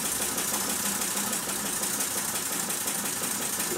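A Mamod SP7 steam engine runs steadily, driving a Meccano model through a pulley, with a constant close mechanical chatter and rapid rhythmic ticking throughout and no one talking.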